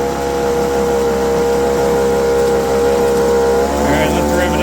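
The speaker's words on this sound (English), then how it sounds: "let's rev it up." An old leaf blower engine, broken and left sitting for years, runs with a steady buzzing drone close by, then its pitch climbs as it revs near the end.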